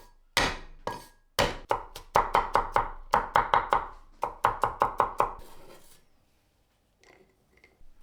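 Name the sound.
chopping garlic cloves with a knife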